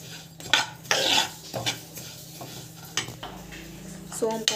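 Black cumin and other whole spices being dry-roasted in a pan for a homemade weight-loss powder, with repeated close scraping and stirring clatters of a spoon against the pan over a faint low hum.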